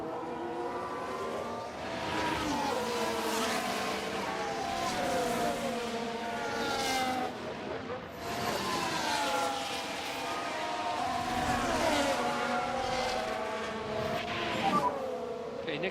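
Simulated F1 race car engines at the Hungaroring in the F1 Manager 24 video game, a continuous high-pitched layered whine with rising and falling revs, loud and sustained throughout, with several cars overlapping.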